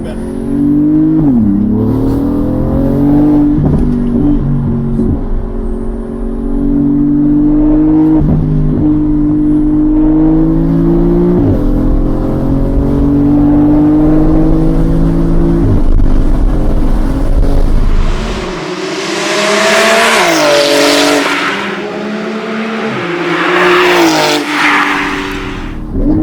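Porsche 911 991 GT2 RS Weissach engine revving loud and close, the pitch climbing and dropping through repeated gear changes, then a harsher burst of roaring exhaust near the end.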